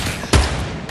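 A single sharp scoped gunshot landing a headshot in Fortnite, one loud close crack with a brief low thump partway through an otherwise quiet second of game ambience.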